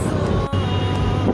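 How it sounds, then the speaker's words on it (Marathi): Road traffic rumbles as a low, steady hum throughout a short stretch, heard from a vehicle stopped in a crowded street. "तर आता गर्दी बघा, थोडीशी ट्रॅफिक पण आहे"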